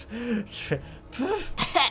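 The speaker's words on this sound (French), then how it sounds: "C'est un chien." A dog coughing in the video game Victor Vran, a few short rasping hacks heard close and brief, with a voice speaking in the clip.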